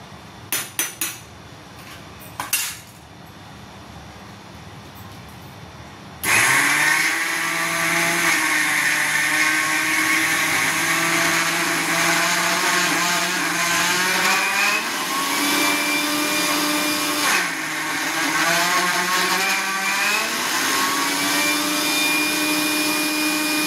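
A kitchen mixer grinder grinds ingredients fine with a loud, steady whirring roar that rises and falls as the blend is pulsed, after a few soft clicks at the start.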